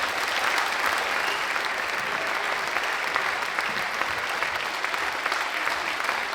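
Steady applause from a school audience for the third-year pupils at an end-of-year show, a dense, continuous clapping that holds at an even level throughout with no pauses.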